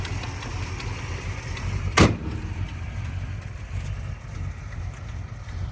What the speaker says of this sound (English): that's pretty much the engine running